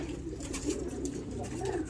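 Pigeons cooing in a spacious backyard loft, soft low murmuring coos repeating steadily at close range with faint rustling and background noise.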